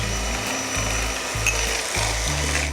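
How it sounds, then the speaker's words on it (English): An electric whisk whirs in a bowl of zabaglione sauce, its motor buzzing in a low, pulsing rhythm with regular surges as the beaters move, close and steady. "we're just going to give it another good whisk with the electric whisk."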